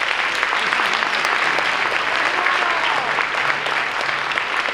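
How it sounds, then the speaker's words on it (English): Concert audience applauding four flutists at a high school band spring concert, steady dense clapping filling the room throughout without a break. "So one more round of applause for them."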